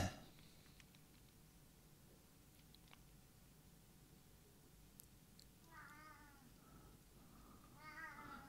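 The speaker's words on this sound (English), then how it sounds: "Yeah, I hear you, cat." A cat meows a few times in a quiet indoor room, the calls coming in short bursts toward the end, fairly near but soft, with faint background rustle and no talking.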